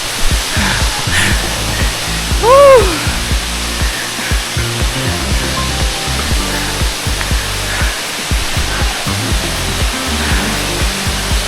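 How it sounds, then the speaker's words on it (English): Wli Waterfall in Ghana's Volta region, the tallest in West Africa, roars as a loud, steady broadband rush of falling water throughout, with a brief whistle-like tone early on. "Guys, the tallest waterfall in the entire West Africa."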